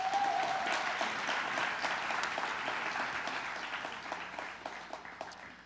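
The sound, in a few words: audience applause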